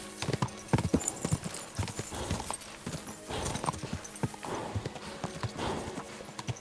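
Rhythmic hoofbeats of a galloping horse in Kingdom Come: Deliverance II clatter steadily throughout, close and fairly loud, with a brief whinny mixed in.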